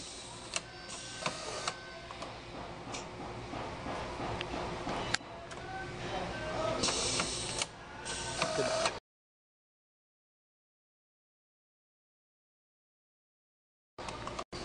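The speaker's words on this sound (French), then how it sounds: "on va faire les coutures pour fermer le tout" An industrial sewing machine stitching the closing seams of hockey gloves in a Reebok CCM factory: a continuous busy mechanical whirring and clatter for several seconds, then sudden silence before a brief return at the end.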